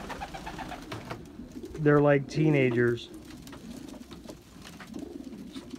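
Young King pigeons cooing in a loft: two close, throaty rolling coos in the middle, with a person speaking before and after.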